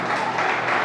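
A church congregation applauds in a steady, dense wash of clapping that lasts about a second, fairly loud and filling the room, with no voice over it.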